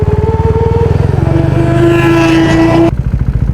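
Kawasaki Ninja ZX-10R superbike engine revving loud and close, pitch climbing steadily into a sustained high howl before cutting off abruptly, then settling into a lumpy idle.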